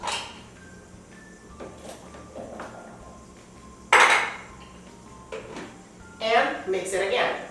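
Carrot cake batter is mixed in a bowl, with scraping and clinking of utensil against the bowl in a few sharp bursts, under a voice talking in a kitchen.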